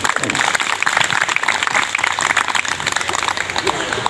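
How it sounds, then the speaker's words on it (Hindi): A crowd applauds with dense, continuous clapping that fills the space for several seconds, loud and fairly close. "चलिए एक बार ताली बजा दिए सर जी।"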